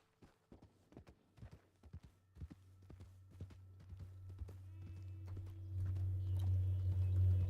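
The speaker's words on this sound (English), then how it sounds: "Horse go by self." A riderless horse in the Red Dead Redemption video game clip-clops along at a steady walking rhythm, each hoofbeat crisp and distinct, while a low engine-like drone swells louder toward the end.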